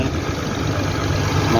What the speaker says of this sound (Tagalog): ito yung loob ng makina, loob ng sasakyan